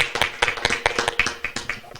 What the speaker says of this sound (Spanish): te damos un aplauso nuevamente